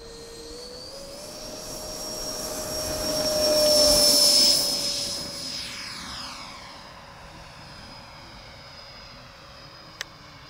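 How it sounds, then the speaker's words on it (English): A model Douglas F-4D Skyray delta-wing jet flies past, its steady turbine whine swelling loudly as it comes near mid-pass and then fading into the distance, with a sharp click near the end. "There's Chris, gonna have a go at his F-4D Skyray"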